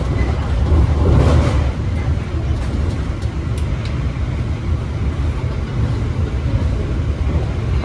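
Argo Bromo Anggrek express train running on rails, heard from inside as a loud, steady low rumble with rough texture and a faint metallic squeal; brief muffled voices in the background.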